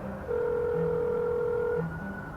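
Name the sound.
telephone being dialed to call a doctor's office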